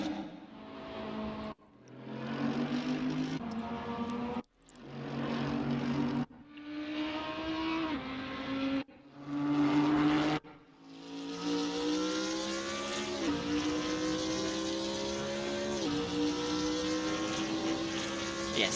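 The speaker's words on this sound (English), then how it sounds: "As we're sort of lapping around in the hypercar." A hypercar engine laps a racetrack in the Assetto Corsa video game, repeatedly revving up through the gears with short cuts between shifts, then a long sustained howl; loud and close with no talking.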